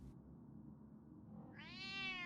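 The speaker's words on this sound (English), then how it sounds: "That stupid cat." A cat meows in Batman: The Telltale Series, a single rising, drawn-out cry near the end over a steady low background hum.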